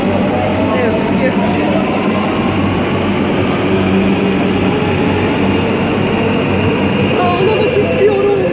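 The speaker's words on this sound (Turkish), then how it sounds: "Yani tam istasyona geldim, tren geldi." A Marmaray commuter train at a crowded station gives off a steady, loud rumble with a low engine drone throughout, and voices talk over it.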